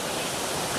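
Mountain spring water pours at Aliw Falls as a dense, continuous broadband rush, loud and steady with no voices over it.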